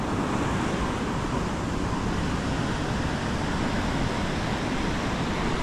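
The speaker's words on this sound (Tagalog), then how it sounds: "Lalakad pa rin ang alon" Continuous broadband roar of ocean surf, loud and close, blended with wind rushing across the microphone, no distinct wave breaks or voices.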